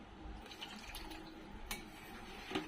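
Water pours faintly and steadily into a pan of cooking black bean (kala ghevda) curry, a soft continuous trickle with no talking.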